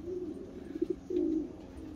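Young racing pigeons coo in a loft, with several soft, throaty, rolling calls close by and nothing else over them.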